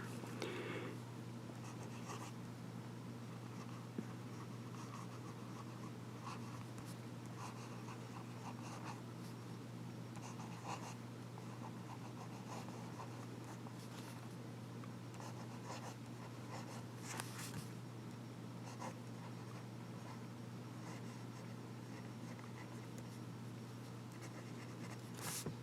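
A Pineider Avatar fountain pen's nib scratches softly across paper in continuous light strokes, faint and close, with a steady low hum underneath and occasional small rustles.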